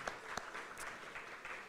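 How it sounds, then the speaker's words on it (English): Faint, distant audience applause for event staff at a live panel discussion on Sweatt v. Painter, a soft continuous patter of many hands with a couple of sharper claps near the start. "Give them a very warm round of applause."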